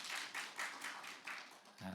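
An audience claps in steady, evenly spaced beats at a church lecture, faint and distant.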